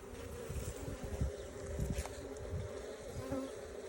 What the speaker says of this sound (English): There are 300 bees all buzzing around trying to clean off the sugar inside